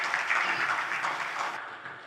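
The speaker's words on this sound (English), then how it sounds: "Please give them another round of applause." Sustained audience applause at an agriculture conference session, a dense, even wash of many hands clapping at steady loudness throughout, with no voices over it.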